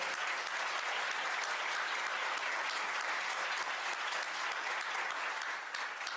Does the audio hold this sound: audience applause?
yes